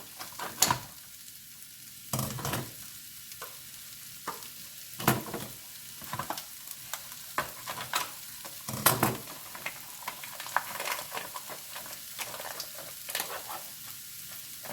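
Bacon lardons sauté in a pan with a steady close sizzle, broken by repeated loud scraping and stirring bursts at irregular intervals, with no voices.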